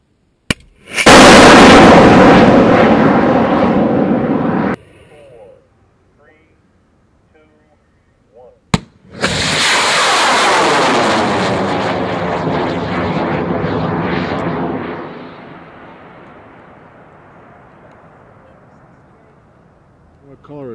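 High-power rocket launching off the pad, two loud roaring motor bursts, the first cutting off after several seconds and the second starting with a sharp crack, then a long fading rush as it climbs away.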